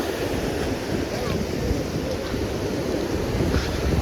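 Sea waves wash along the Diu shore beside a seaside temple, with a steady cool wind buffeting the microphone in a continuous broadband roar that stays fairly loud throughout.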